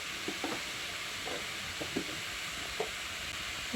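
Spices and vegetables frying in a pan while being stirred, a steady low sizzle with several short scraping stirs spread through, close and fairly quiet, with no talking.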